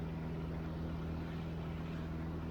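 Small single-engine aircraft climbing out past 3,000 feet, a loud, steady engine drone with strong low harmonics filling the cabin continuously, no talk over it.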